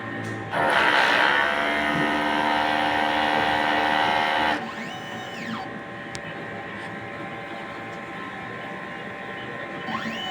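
A DTF printer runs its head-cleaning cycle with a loud, steady mechanical whir that drops to a quieter hum partway through, followed by faint rising and falling motor tones.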